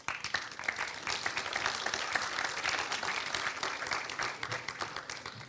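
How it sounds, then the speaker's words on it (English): Audience clapping for Indian Forest Service officers at an Eco Warrior awards ceremony, a steady, moderately loud wash of many hands applauding together throughout. "Let's give them a big applause"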